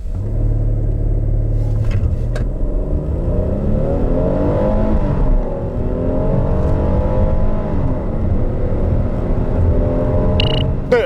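A Hyundai Palisade with a 3.8-litre engine and all-wheel drive accelerates hard on a test drive, its engine note rising steadily through the gears as a loud, continuous interior rumble.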